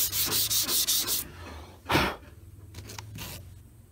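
Hand sanding on the body work of a 1979 Ford F100, a quick run of rhythmic rasping strokes, then a single louder scrub and a few lighter scrapes, close and clear.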